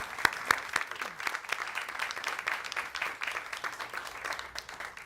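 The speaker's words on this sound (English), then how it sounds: "let's give them a round of applause" Scattered applause from a room audience honoring the Voyager spacecraft team, a steady patter of many hands with a few sharper claps standing out, moderate and fairly close, lasting several seconds.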